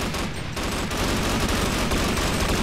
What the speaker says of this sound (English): Oh, things are exploding! Things are exploding!